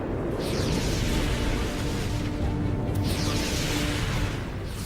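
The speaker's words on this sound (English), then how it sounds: "The morning calm is shattered by one massive explosion after another." Dramatized explosions of the 1883 Krakatoa volcanic eruption rumble as a continuous dense roar with deep booming energy, loud and unbroken throughout.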